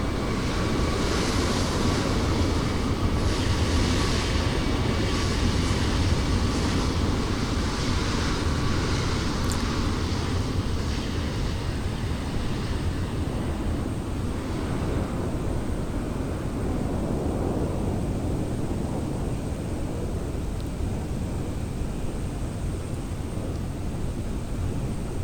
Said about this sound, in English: I've got my engines just about idle right now, just losing altitude